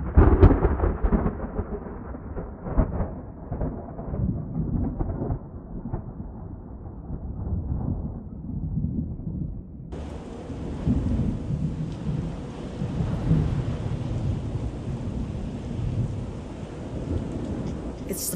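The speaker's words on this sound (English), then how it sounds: "First thunderstorm this year." Thunder rumbles repeatedly through steady rain in a thunderstorm, the low rolling booms strongest early on, then a hiss of heavier rainfall takes over at full, even loudness for the rest of the stretch.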